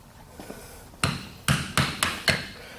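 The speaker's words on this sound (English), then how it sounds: "And then use a gouge. I set it straight, tap in," A farrier taps a gouge into the hoof of an event horse during shoeing: a few faint taps, then five sharp, close metallic knocks in a quick, uneven rhythm.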